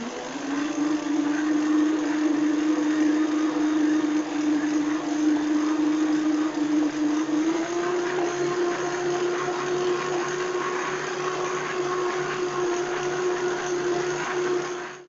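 A stand mixer kneads gluten-free, lactose-free cinnamon roll dough, its motor whining steadily and loudly, then stepping up to a slightly higher pitch as the speed increases, with no talking.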